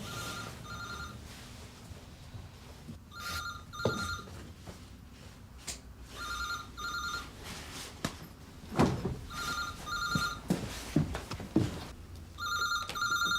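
A telephone bell rings in repeated double bursts, with door thuds and movement sounds in between, inside a 1992 police-drama scene.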